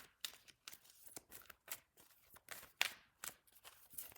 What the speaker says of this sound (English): Sometimes these are a little hard to shuffle.